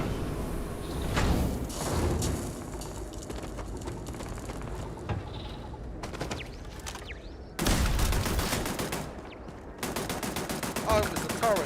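Automated turrets firing in Starfield, bursts of rapid gunshots with thuds and impacts, loud and near, continuing in waves across the stretch with a sharp renewed volley partway through.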